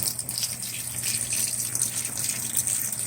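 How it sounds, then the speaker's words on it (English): Water gushes steadily in a soft, continuous hiss as a Whirlpool Cabrio WTW7000 washing machine tub fills, washing a thick queen-size comforter, heard faintly with no voices. "Looks like we're adding more water."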